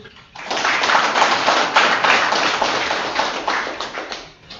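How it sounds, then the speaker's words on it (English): A crowd at a public political rally in Meghalaya breaks into dense, continuous applause that swells quickly, holds steady for several seconds, then tapers off. "Please give a big round of applause to Modi government and his team"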